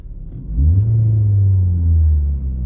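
A 2014 Ford Focus with a manual transmission gives a short low rev that swells and then settles into a smooth, steady idle hum, close and loud with no talking.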